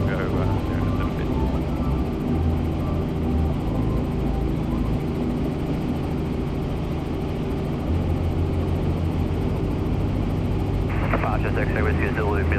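Helicopter on a scenic tour flight over Sydney, heard from inside the cabin as a loud, steady rotor and engine drone throughout, with a brief higher whine near the end.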